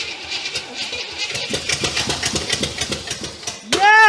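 An abandoned 1967 Cadillac DeVille, unstarted for 40 years with a carburetor not pumping gas, cranking in a steady rhythmic chug that ends with a short rising catch before it dies away.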